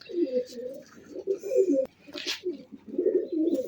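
Pigeons coo repeatedly in low, throaty phrases close by, with brief pauses between bursts and a faint higher chirp now and then.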